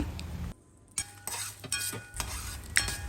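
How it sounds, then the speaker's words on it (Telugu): Cumin, coriander seeds, garlic and curry leaves dry-roasting in a pan, with a spoon stirring through them in scraping, clinking strokes and a faint sizzle, close and steady apart from a brief pause. "అందులోకి వన్ టేబుల్ స్పూన్ జీలకర్ర ధనియాలు వేసుకొని వేయించుకోవాలి"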